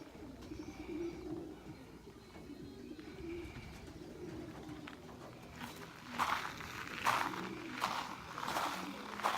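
Three-month-old young racing pigeons cooing in a loft, soft low coos repeating through the whole stretch, with a burst of louder rustling and flapping near the end and no talk.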